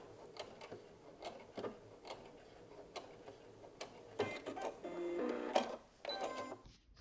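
Sewing machine backstitching a seam on a McCall's 8035 garment: a quiet, close mechanical ticking at first, then a quicker whirring run of stitches with clicks near the end.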